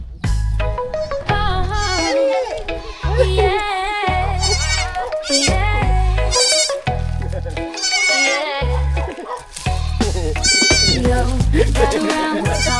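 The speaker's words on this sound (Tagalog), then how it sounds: "Ito na yung kambing." A goat in Iloilo bleats repeatedly and loudly up close, with wavering, nasal calls in a broken series and short pauses between them.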